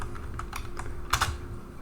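Several quick keystrokes on a computer keypad, light close clicks in an uneven burst, ending with a slightly firmer press, quiet room with no talking.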